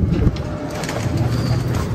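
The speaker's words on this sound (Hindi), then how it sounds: "कबूतर यही वाला चाहिए हमें" A pigeon coos close by, with soft, low, repeated rolling calls and a faint voice in the background.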